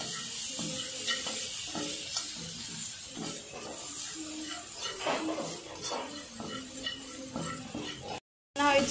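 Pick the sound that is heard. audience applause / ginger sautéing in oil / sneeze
ginger sautéing in oil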